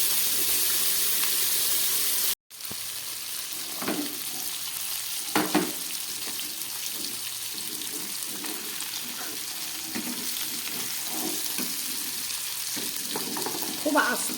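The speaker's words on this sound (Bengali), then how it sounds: "খুব ভালো করে মাছগুলোকে আমি এই ফ্রাই প্যানের মধ্যে ভেজে নেব।" Small tangra fish frying in a frying pan, with a steady close sizzle and crackle that runs through after a brief cut, plus a few soft clinks and bumps and no speech.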